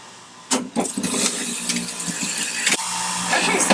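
A juicer motor grinds through spinach, celery, lemon and ginger with a steady, buzzing whir. Sharp clunks and knocks break through as produce is pushed in, and the sound is close and continuous.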